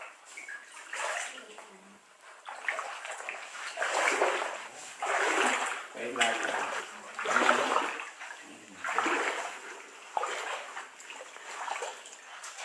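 Water flowing and splashing at a bathing spot at the foot of a hill, a steady rushing wash that swells and falls in repeated surges, heard alone without talk.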